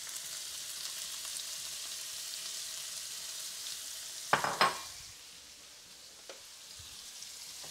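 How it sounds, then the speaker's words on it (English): Steady sizzling of onions frying in a hot pan, a soft continuous hiss with a brief burst of louder crackling and popping midway. "Just let it pop and sizzle."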